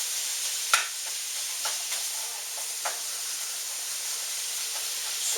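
Food sautés in a pan with a thin, steady hiss and a handful of sharp utensil clicks, fairly quiet, and no one talking.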